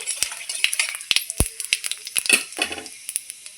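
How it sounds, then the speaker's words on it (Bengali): A tempering of bay leaf, dried red chilli and five-spice seeds sizzles in hot oil in a pan, with a crackling fry, sharp spits and pops, and the scrape and clink of stirring, close and fairly loud. "তেল আমার খুব সুন্দর গরম হয়ে গেছে এবার আমি ফোড়নে দিয়ে দিচ্ছি একটা তেজপাতা একটা শুকনো লঙ্কা আর পাঁচ ফোড়ন দিয়ে"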